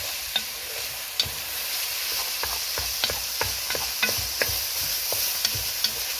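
Meat browns in a hot curry pot, sizzling and frying steadily while a spoon scrapes and knocks against the pot in irregular stirring strokes, close by and with no talking.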